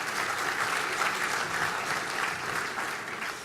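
Audience applause at an industry forecast event, steady dense clapping from a large crowd, moderately loud and fading slightly at the end.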